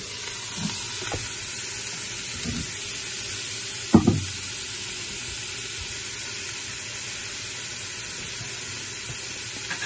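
Ground meat and onions for lasagna sizzling in a pan, a steady moderate hiss with a couple of scraping stirs and one sharper clatter partway through, no talking.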